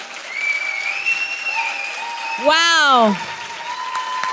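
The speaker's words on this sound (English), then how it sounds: "Another round of applause for our panelists, Nelda, Theresa," Applause for panelists at a women in business chamber of commerce breakfast forms a steady wash, with a high whistle and a loud drawn-out exclamation breaking through the middle.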